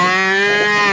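A cow moos in one loud, sustained low call with a steady tone, close by and heard alone, at an Eid al-Adha gathering.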